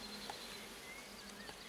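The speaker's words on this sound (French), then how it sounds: "Il y a toutes les abeilles dedans." Honeybees hum in an opened Carpatica hive with a soft, steady, faint buzz close by, with a few brief higher whines over the drone.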